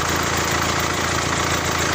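A car engine idles with a fuel injector stuck in the open position, producing a steady mechanical drone with a rapid, regular knocking tick running through it, close and loud throughout.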